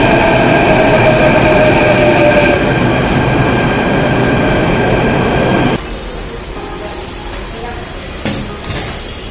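A metro train rumbles loudly with a high whine, then the noise drops as it slows or the doors open, leaving a quieter station hum at Keshavpuram.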